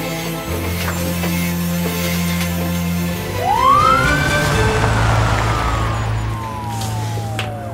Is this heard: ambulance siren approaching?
yes